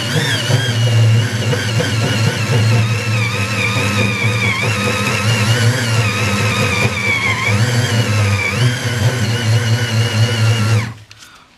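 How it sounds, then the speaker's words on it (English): An eraser wheel spinning against car paint to strip off a vinyl bumper decal, a loud, close, steady motorized whine with a wavering pitch that cuts off sharply at the end. "See how the eraser wheel does taking this thing off."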